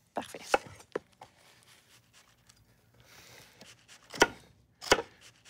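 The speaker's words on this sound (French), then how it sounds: "Même chose avec l'oignon, on va couper ça assez finement" Sharp knife chops of zucchini and onion strike a cutting board in irregular bursts, a few quick cuts, a pause, then two louder chops close by.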